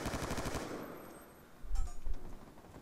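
Bursts of assault rifle fire from an M27 in a video game match, a rapid rattling volley at the start, then quieter, and a second, heavier burst with low thumps near the middle.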